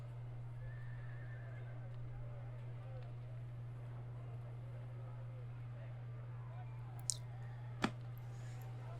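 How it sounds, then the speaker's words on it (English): Horses whinny and neigh in a dramatized medieval fantasy scene, with faint hoof clip-clops and a couple of sharp clicks near the end over a steady low hum. "Bring the horses."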